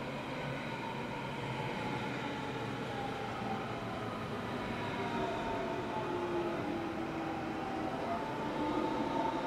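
A Berlin S-Bahn class 480 train runs on the Ringbahn, giving a steady, continuous rumble with faint high tonal whine throughout and no pauses.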